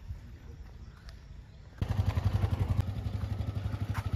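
A learner rides a manual-gearbox motorbike, its engine starting up partway through and then chugging in a steady, close rhythm under light background noise.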